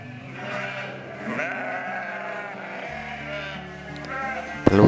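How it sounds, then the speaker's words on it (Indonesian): Dorper sheep, a meat breed of livestock, bleat in wavering calls over steady low background sound, with a short louder burst near the end. "domba Dorper adalah varian domba ternak yang berguna karena dagingnya"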